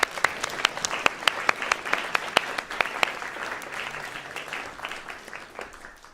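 Applause from an audience at a masterclass session of the NTC 2023 conference, with loud individual claps standing out near the start, then a steady, dense patter of many hands that gradually thins and fades.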